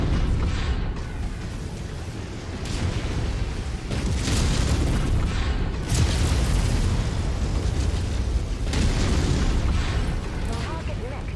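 Mech weapons fire and explosions rumble in MechWarrior 5, heavy booms and bursts rolling continuously at high volume with little pause between blasts.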